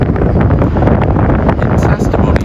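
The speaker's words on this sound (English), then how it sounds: "In testimony to how windy it is here in Nebraska" Steady, loud wind on open Nebraska farmland buffets the microphone with a constant low roar and rumble, gusting slightly throughout with no clear breaks.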